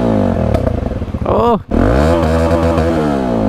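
A Bajaj Dominar 400 motorcycle exhaust revs loudly up close, its throaty engine rising and falling, with crackling backfire pops and a sharp dip as the throttle closes before it roars again. A voice makes a brief exclamation over it.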